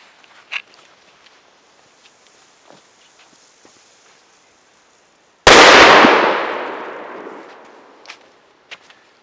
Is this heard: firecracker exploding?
yes